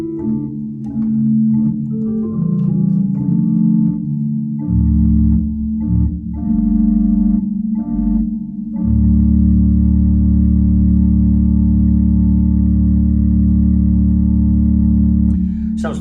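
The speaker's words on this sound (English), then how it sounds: "is a 16-foot Borden, which sounds like this." A digital organ sounds its 16-foot Bourdon stop on the swell manual, sustaining deep, soft flue tones through a series of held chords with a steady airy hiss, loud and alone with no talk.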